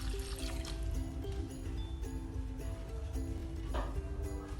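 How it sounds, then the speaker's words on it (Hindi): Water pours steadily into a pot of mutton karahi, a continuous trickling and filling sound that holds throughout, with a low kitchen hum beneath it. "ये आधा पानी मैंने डाल देना है"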